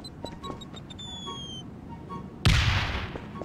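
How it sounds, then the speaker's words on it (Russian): A modded bomb in Garry's Mod detonates with a sudden loud blast that decays over a second, preceded by quiet clicks, beeps and descending tonal whistles from the game. "Очень красивый эффект. Классно взрывается,"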